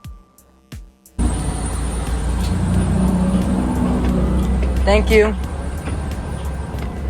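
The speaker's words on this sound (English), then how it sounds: "twin buses going off in the distance." A pair of buses pulling away in the distance, a steady engine roar with a brief rising squeal partway through, heard under scattered talk after a short quiet start.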